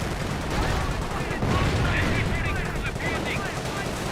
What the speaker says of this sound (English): AT gun firing away.